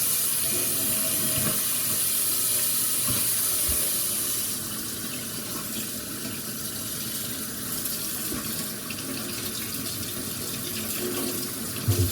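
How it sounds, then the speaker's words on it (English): Water rinses through parts of a Miops Water Drop Splash Kit, a steady close hissing flow that softens slightly midway and runs on without speech. "you pour water into this hole and you pour water into the top"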